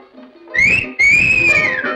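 A person whistling in a comedy film scene, two sustained, clear whistled notes close and loud, the second gliding slightly, over a soft background.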